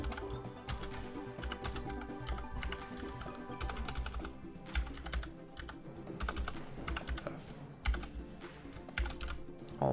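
Someone types code on a computer keyboard in continuous rapid bursts of close clicking keys, at moderate loudness with no voices.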